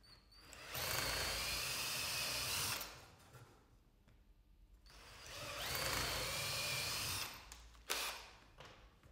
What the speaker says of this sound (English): drill the clearance holes